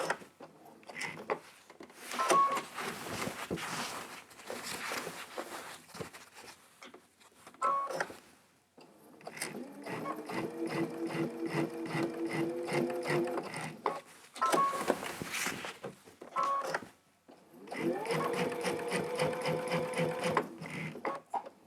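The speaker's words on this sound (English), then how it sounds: "I think I need to go one more stitch." A sewing machine fitted with a walking foot quilting through fabric layers, running in several bursts of rapid, mechanical stitching separated by brief pauses, close and fairly quiet.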